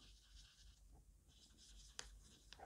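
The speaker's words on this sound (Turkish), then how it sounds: "kalemimizle şuraya iki tane göz koyuyoruz" A pen drawing two eyes on a paper frog craft: quiet, close scratchy strokes in short bursts, ending with a couple of light taps on the paper, with no talking.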